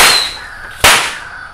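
Firecrackers explode in a metal wok, two sharp, loud bangs less than a second apart, each trailing off in a short ringing decay.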